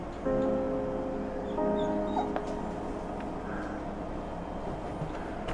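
A dog whimpers in a series of high whines, then gives a few short barks and yips nearby, with faint background hum.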